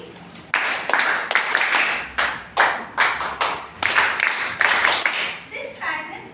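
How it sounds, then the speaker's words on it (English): A classroom of students claps back a rhythmic pattern in unison, a series of loud, close group claps in a steady repeated rhythm lasting several seconds, with brief children's voices near the end. "Clapping pattern is that you can take. All of you can just listen to the pattern. You have to repeat it."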